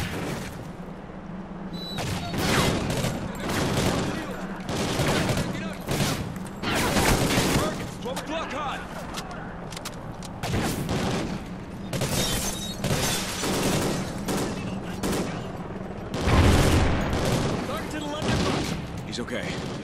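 Call of Duty Ghosts combat on PC: dense bursts of automatic gunfire and booming shots repeat throughout, loud and close, with shouted dialogue between characters mixed in.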